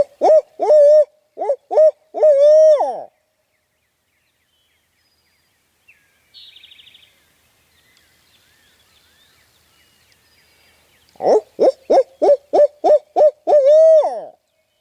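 A turkey hunter's voice imitating an owl, giving two loud, close bursts of rhythmic hooting separated by a long quiet pause, with faint rustling in between.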